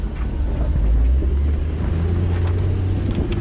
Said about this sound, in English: Double clutching.